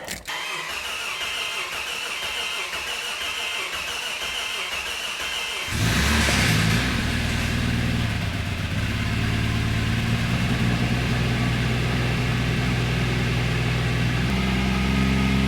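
A freshly rebuilt car engine cranks briefly, catches and fires up, then settles into a steady, loud, close idle with a low rumbling hum.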